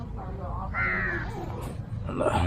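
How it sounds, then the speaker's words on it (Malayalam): Birds call around a campsite at daybreak, with crow-like caws and other chirps fairly close, mixed with talking. "നിറച്ച് കിളികളൊക്കെ ഉണ്ട്."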